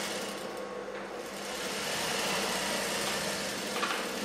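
A sewing machine runs steadily while stitching blouse fabric along the margin, a continuous mid-pitched motor whir with a fine buzzing texture, moderately close and alone with no talk.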